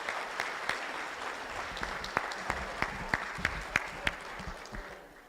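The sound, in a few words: applause for the volunteers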